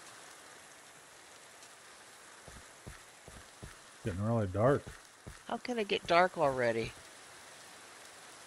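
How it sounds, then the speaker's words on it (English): Steady rain in a Minecraft-like survival video game, a soft continuous hiss that carries throughout and sits under a man's speech in the second half. "here comes the rain"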